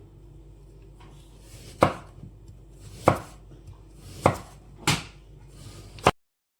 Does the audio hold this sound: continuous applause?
no